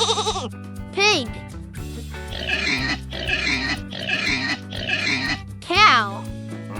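A pig oinks and grunts in four short, loud bursts in quick succession, set against steady background music, with a brief voice call before and after.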